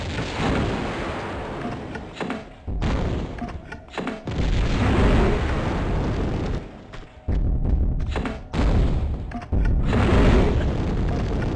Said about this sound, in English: what the fuck is this noise from my grenade launcher?